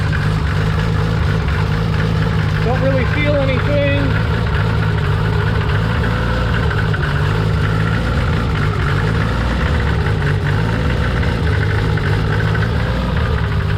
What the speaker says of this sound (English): Picks up a cold idle pretty easily.